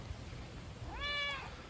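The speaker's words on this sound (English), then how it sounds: "It's quite a talkative kitty today, huh?" A single cat's meow rises clearly near the end, a short bright tonal call about half a second long over a quiet outdoor background.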